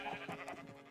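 Sheep in the video game Minecraft give a short wavering bleat, faint and a little distant, lasting about a second with no talking over it.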